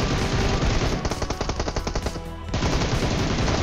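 Loud automatic gunfire comes from behind the player in the PUBG Mobile battle royale game, with rapid bursts in a dense rattling stream and a clear burst of separate shots in the middle, no voice.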